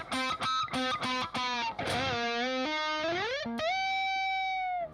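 Distorted electric guitar plays a solo from a song, with quick picked notes and bends leading into a long sustained bent note, loud and alone.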